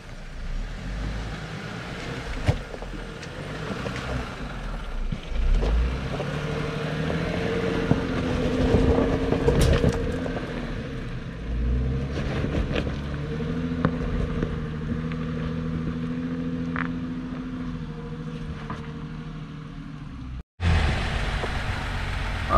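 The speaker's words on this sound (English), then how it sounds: "I'm gonna do first gear, just take my foot off the clutch, nothing fancy, and then just let the Jeep walk itself up" A manual Jeep crawling up an off-road obstacle in first gear, a low steady engine drone that rises and labours with the climb, with wind buffeting the microphone and a brief cut near the end.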